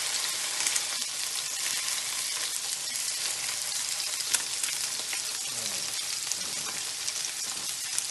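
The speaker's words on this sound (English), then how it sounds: "that sizzling sound as soon as it hits the pan, and just hold the fish down and make sure that the oil is on all sides." A salmon fillet frying in an oiled pan, with dense, steady crackling sizzle holding at an even close level throughout, no talking.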